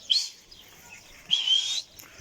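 Pigeons being flown outdoors give two bright, chirping calls, one short near the start and a longer one about a second later, fairly close and standing alone with no talk.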